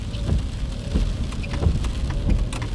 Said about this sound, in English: As you can see, it's still raining.